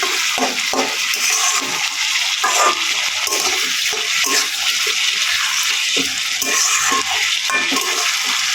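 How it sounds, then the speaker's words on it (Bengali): Potatoes frying for aloo bhaji give a steady, dense hiss and crackle with scattered stirring clinks, close and continuous throughout with no talking. "এখন আলু ভাজি করে নিচ্ছে"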